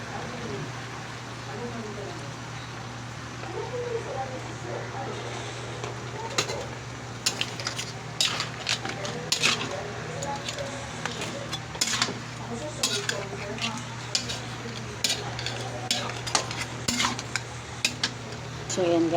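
A spoon stirs coconut milk into a cooking pot of ginataang crab, seafood and squash, with soft scraping and clinks against the pot over a low steady simmer and hum.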